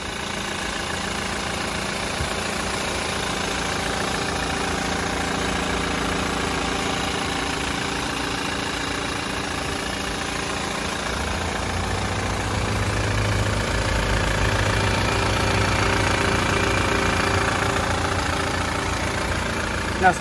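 A 2016 Toyota Land Cruiser Prado GXL engine idles with a steady continuous hum, the low rumble growing a little stronger toward the end.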